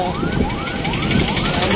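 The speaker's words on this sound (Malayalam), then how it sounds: "ആംബുലൻസ്" An ambulance siren wails with a repeating rising sweep on the NH66 highway amid heavy traffic, loud and close over road noise, while someone talks over it.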